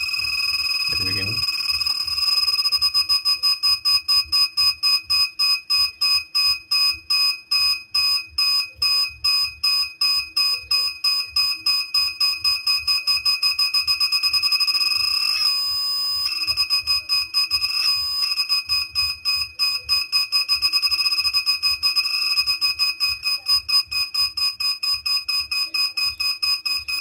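An electronic buzzer beeps in a rapid, steady train of short tones that run on without pause, loud and close throughout with only slight changes in pattern.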